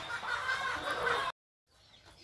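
Farmyard chickens cluck and chatter at feeding time in a rural province yard, a busy close flock sound that cuts off abruptly, then resumes faintly.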